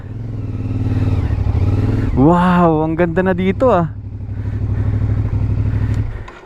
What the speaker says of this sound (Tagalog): kaya medyo nakakatakot din iakyat yung motor, guys, kasi matarik yung inahon natin